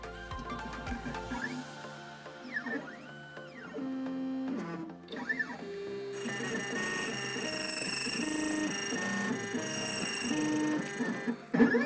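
A key cutting machine cuts a brass key blank, starting with whirring motor movements and shifting tones, then settling into a sustained high, buzzing cut that runs loudly to the end.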